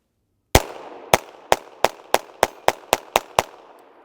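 Ten sharp, loud shots ring out from a Glock 44 .22LR pistol firing CCI Stinger rounds, the first alone, then the rest quickening into a steady string, each crack followed by a brief echo.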